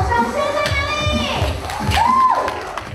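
Audience at a Kinmen sorghum liquor cocktail competition cheers and claps, with shouts and whoops rising over scattered clapping and crowd noise.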